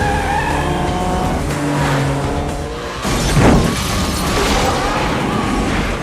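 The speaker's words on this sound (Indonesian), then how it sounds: "Terjadi aksi kejar-kejaran yang begitu edun lah pokoknya Brad" High-speed police car chase from the film Gone in 60 Seconds: roaring engines with shifting revs, squealing and skidding tyres, and a loud surging whoosh midway as cars race close past.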